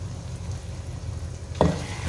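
Chicken liver karahi frying and being stirred in a pan, a close continuous sizzle with a sudden louder scrape-and-hiss burst near the end.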